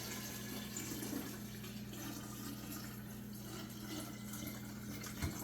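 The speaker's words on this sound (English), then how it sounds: "just pour this into our clean little jar here" Liquid homemade insecticide is poured by hand into a small clean glass jar without a funnel, a faint continuous trickle and splash under a steady low hum, with no talking.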